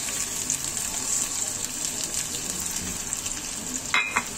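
Chicken reshmi kebabs fry in a pan with a continuous close hiss and spatter, and a brief clatter near the end as the pan or kebabs are handled.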